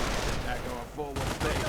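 An MG42 machine gun fires in a World War II strategy game, a dense rapid rattle with a brief dip in the middle before the burst resumes, loud and close, with a commentator's voice partly mixed in.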